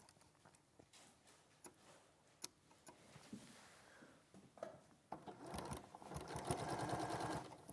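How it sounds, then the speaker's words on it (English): A sewing machine stitches fabric down, starting with scattered clicks and handling noises and then settling into a steady, close whir in the last few seconds. "I'm just going to sew that down now."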